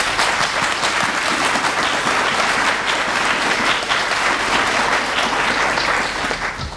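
A packed room at a public hearing about a proposed cell tower breaks into loud, sustained applause that stays steady and dense throughout.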